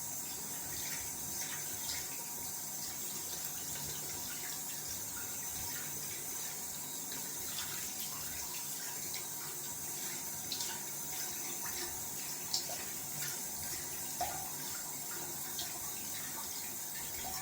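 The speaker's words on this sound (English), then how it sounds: "Just gonna wash out the brush when the alum is working a little bit more." Water runs steadily from a tap as a shaving brush is washed out after wetshaving, a continuous close splashing stream with occasional faint clinks and no talking.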